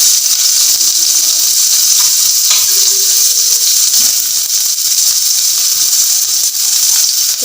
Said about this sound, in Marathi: त्याच्यानंतर हा कांदा छान असा भाजून घेते मी